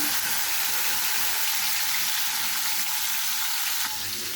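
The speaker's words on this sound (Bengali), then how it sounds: "মাছটি আমি দিয়ে দিয়েছি ভাজার জন্য" Fish frying in hot oil for a mustard-style puti fish dish, giving a steady, loud, dense sizzle with crackling spatter that holds evenly throughout.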